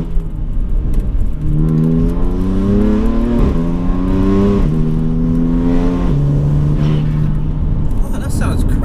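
A tuned 560 bhp BMW M4 convertible accelerates hard, its engine note climbing steadily through several gears with brief dips at each shift, loud and continuous from inside the car.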